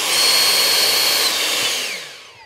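A CAT 800 CFM battery leaf blower runs on its turbo setting, a loud, steady high-pitched whine and rushing air that holds close and strong before spinning down and fading at the end.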